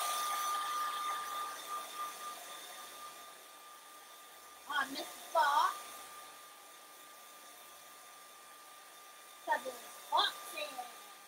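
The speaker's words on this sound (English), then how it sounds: "So I'm gonna use my hair dryer." A hair dryer blows over wet paint on a winter fox painting, a steady whirring hum with a thin whine that is strongest at the start, then softer and continuous beneath short bursts of someone talking.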